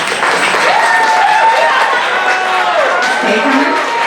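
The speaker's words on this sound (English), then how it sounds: "give a big round of applause for Kay" Poetry slam audience claps loudly and continuously, with cheering and whoops rising over the applause and some voices chattering in the crowd.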